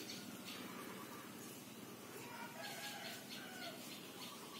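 A chicken clucking nearby in a home setting with cats about, soft irregular clucks under a steady hiss of background noise, fairly faint.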